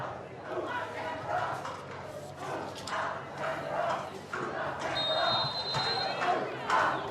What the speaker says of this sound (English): It's a big Canberra crowd urging on Canberra United up against Melbourne Victory